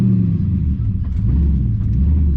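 A six-speed manual car's engine revs with too much gas during a learner's takeoff, a loud steady low rumble close by, held high throughout with slight rises and no talking.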